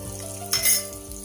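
Hot curry leaf tempering sizzles and crackles steadily as it hits tomato dal, with a brief sharper hiss and a light utensil clink in the middle, close and with no talking.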